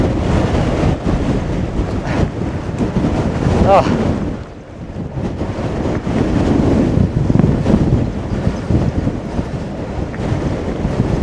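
Strong wind buffets the microphone in continuous roaring gusts while mountain biking down an old coach road near Wellington, dipping briefly midway before surging again.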